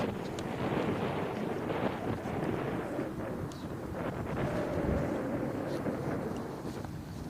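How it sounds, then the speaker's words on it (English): Steady gusty wind roars across an open disc golf course, buffeting the microphone continuously for several seconds, with faint talk underneath. "But wow, that wind is blowing"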